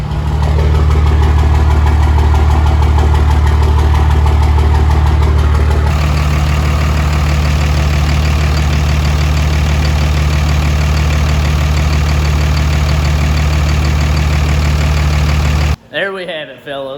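A Cummins diesel truck engine idles loudly and close just after its first start following a rebuild, a heavy, steady low clatter with a slight dip in pitch partway through, then cutting out abruptly near the end.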